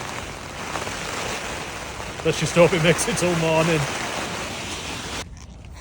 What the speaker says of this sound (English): As you can hear, the rain's going